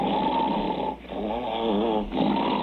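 A man imitates the snoring of a sleeping man on an old radio broadcast, giving two long rasping snore breaths separated by short pauses, close and fairly loud.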